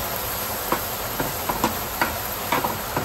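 Masala paste for a Malvani-style egg curry sizzles and hisses steadily in hot oil, with scattered brief pops and spits rising over the continuous frying noise, close and alone without talk.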